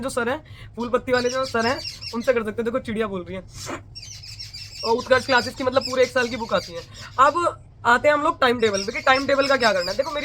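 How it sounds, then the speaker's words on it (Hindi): Birds chirp outdoors, faint and intermittent, mostly beneath a man's continuous speech, with a few short calls showing through in brief pauses. "देखो चिड़िया बोल रही है"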